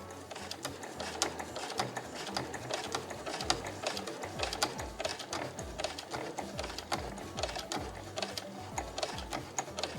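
Household sewing machine stitching a quilted nubi tote bag, a rapid continuous mechanical clatter of the needle with steady rhythmic ticks, close and unbroken, no talking over it.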